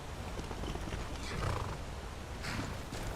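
Horse hooves clip-clop steadily in the video game Skyrim, a continuous near trotting patter over a dense game ambience, with a brief louder swell midway.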